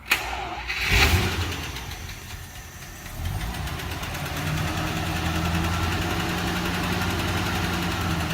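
A 1949 Packard car engine cranks over with a burst near the first second, catches, and settles into a steady, loud idle that runs unbroken for several seconds, with no talk over it.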